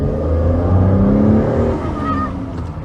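A Rover 75 V6 petrol engine runs steadily with a smooth, continuous low hum that stays close and fairly loud for the whole stretch, with a faint rise in pitch near the end.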